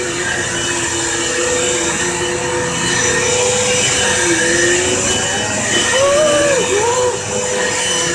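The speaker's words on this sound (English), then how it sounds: "Vacuuming is so much fun." A vacuum cleaner runs continuously with a steady broadband roar, loud and close, with a faint tonal whine drifting through it.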